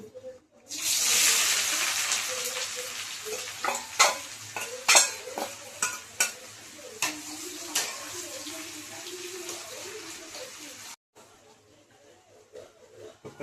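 Onions sizzle and fry with whole garam masala in a pan, a bright crackling hiss broken by repeated stirring scrapes and bursts, dropping to a quieter simmer near the end.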